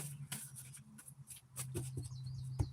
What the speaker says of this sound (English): The bird song is so loud.